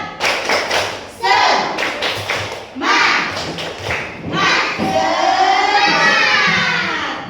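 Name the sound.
class doing the rhythmic 'tepuk semangat' clap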